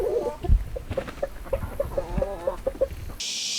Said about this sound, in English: just a little bit of chicken gawking in the heat of the afternoon